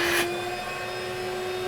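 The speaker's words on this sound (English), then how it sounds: "So we'll just energize the vacuum cleaner." A vacuum cleaner pushes positive pressure through an air conditioner drain line on a split system install, a loud steady whine with a sharp burst at the start, continuous with no talk.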